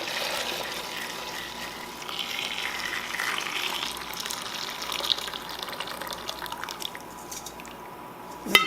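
Hot pho broth is poured from a pressure canner, a steady gushing, trickling stream of liquid with faint drips, fairly close and continuous before tapering off at the end.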